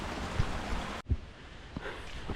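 A stream of water flowing beside the Marlboro Nature Trail, giving a steady, close broadband rush with a few soft low thumps and a brief dip in the middle.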